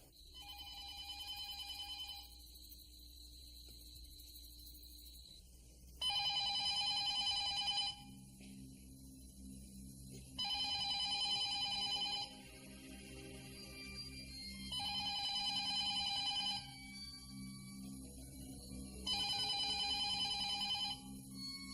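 A telephone ringing unanswered on the other end of a line, repeated double-burst rings at an even rhythm over a faint steady hum, with no talk.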